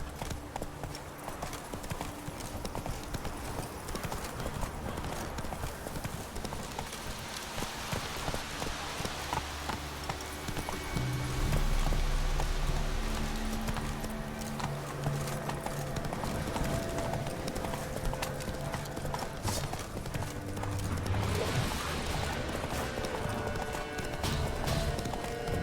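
A horse gallops in The Witcher 3 with a steady, continuous clip-clop of hooves throughout, set against a dense layer of game ambience and music, loud and close.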